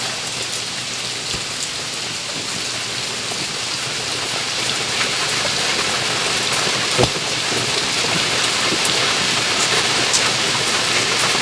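Heavy rain pours steadily after a typhoon, a dense close hiss of drops on surfaces with a dull thunder rumble and a sharp crack partway through, no voices.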